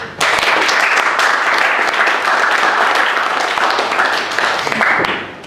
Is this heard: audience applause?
yes